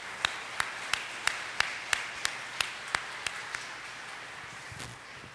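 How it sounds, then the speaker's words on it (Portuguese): A church congregation claps after a sermon in a steady, evenly spaced rhythm of about a dozen beats, faint and somewhat distant, then the clapping fades out. "Vamos aplaudir a Deus por essa mensagem"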